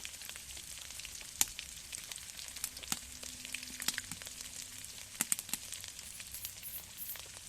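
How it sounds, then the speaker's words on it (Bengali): Onion paste, garlic paste and cumin spice mix fry in a pan for khichuri with a steady close sizzle, broken by a few sharp crackles and a brief stirring scrape. "সামান্য একটু পেঁয়াজ বাটা জিরা মশলা সব কিছু দিয়ে দেব বন্ধুরা দিয়ে আমি হালকা করে ভেজে নেব এটাকে"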